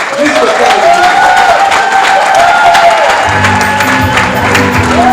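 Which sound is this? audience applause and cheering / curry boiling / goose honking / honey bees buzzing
audience applause and cheering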